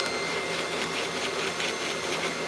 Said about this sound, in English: I'm gonna vacuum this a little bit, just kind of get in here